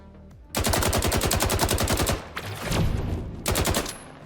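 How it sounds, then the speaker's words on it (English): Two loud, rapid bursts of automatic gunfire from the Sigma weapon in the video game Shrapnel: a long stream of evenly spaced shots, a brief lull with softer noise, then a shorter burst near the end. "I think I blasted him through that wall, chat."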